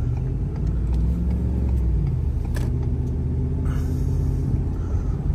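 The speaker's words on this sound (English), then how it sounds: "But here, we'll accelerate." A Ford Super Duty pickup with a 10R140 automatic transmission accelerates from a turn, giving a steady, loud low-pitched engine and road rumble heard from inside the cab, with no talk.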